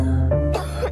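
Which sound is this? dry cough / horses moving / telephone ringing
dry cough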